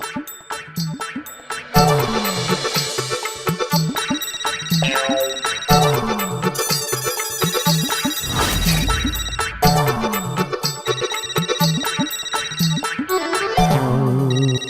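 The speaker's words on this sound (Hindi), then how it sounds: "चिंटू क्यों फोन कर रहा है मुझे?" A mobile phone rings with a bright electronic melodic ringtone, repeating its tune loudly and clearly for about fifteen seconds with no voices over it.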